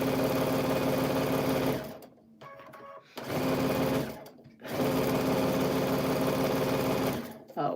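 A sewing machine stitches a quilt in three bursts separated by short pauses, running steadily and close by, with a voice present at times.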